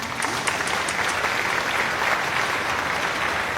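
A podcast studio audience gives warm applause welcoming guest Kakak Rusma, a dense, even wash of clapping from a small crowd that holds steady throughout with no talking.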